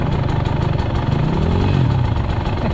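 A Regulmoto Holdeshot motorcycle engine idling close by, a loud, steady rapid thumping pulse with a slight rise in pitch partway through, no talking.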